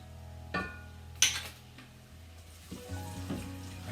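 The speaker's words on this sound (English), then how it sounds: "I have 6 cloves of garlic that I'm going to throw in. I'm going to get that sauteing." Six garlic cloves hit hot oil in a pan with a brief clatter, then a faint, steady sizzle continues under occasional utensil clinks, with a low background hum throughout.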